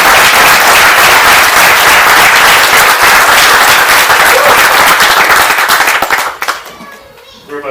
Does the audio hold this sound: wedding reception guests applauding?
yes